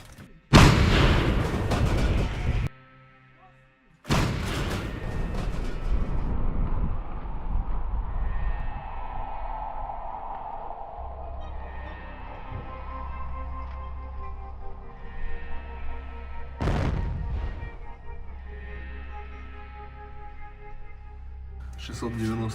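A 2S19 Msta-S self-propelled howitzer in Ukrainian service fires, sending out loud, close booming blasts near the start and again later, with a rumbling engine idle and crew voices between the shots.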